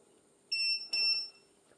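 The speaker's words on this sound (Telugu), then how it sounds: "చూడండి మనకు రెండు బీప్ సౌండ్ వచ్చింది" A Luminous home inverter gives two short, piercing electronic beeps close by as it switches to UPS mode, each tone separated by a brief gap in an otherwise quiet room.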